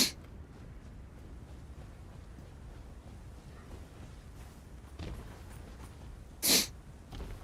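A single sharp sneeze bursts out near the end over a faint, steady room hum, with no talking.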